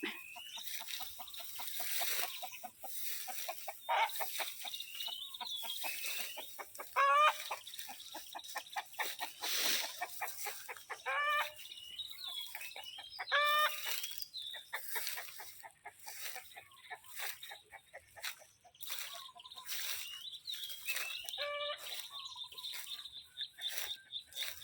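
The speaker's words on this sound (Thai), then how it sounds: "ไล่ไก่ไล่เป็ด" Chickens cluck and squawk continuously at close range while being chased away along with ducks, with repeated rising calls and chirps over a steady outdoor background; no talking.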